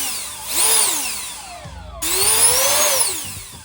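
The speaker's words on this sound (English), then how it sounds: "Sounds just like a really powerful leaf blower." A powerful electric jet fan on a homemade jet scooter spins up with a rising whine, drops off, then revs again in a loud whooshing roar like a leaf blower.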